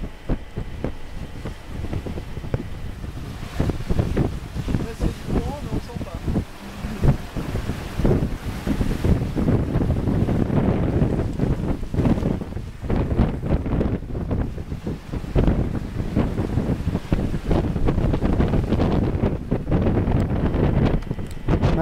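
Strong wind buffets a sailboat on a long sea crossing, a continuous roar with gusty rumbling against the microphone and waves washing beneath it, loud throughout.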